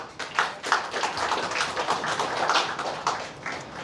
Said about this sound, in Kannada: ಸೊ ಎಲ್ಲರೂ ದಯವಿಟ್ಟು ನರ್ಸಿ ಸರ್ಗೊಂದು ದೊಡ್ಡ ಚಪ್ಪಾಳೆ